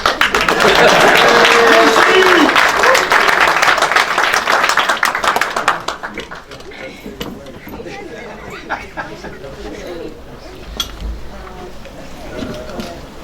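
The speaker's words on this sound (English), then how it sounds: "Y'all can clap." Audience claps at a county freeholder reorganization meeting, loud sustained applause for about six seconds that fades into murmuring chatter and voices in the room.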